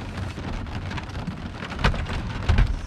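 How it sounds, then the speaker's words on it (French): Steady rain patters on a surface, with a couple of louder thumping splashes near the end, at Bidart beach, France. "il y en a marre quand même de la pluie"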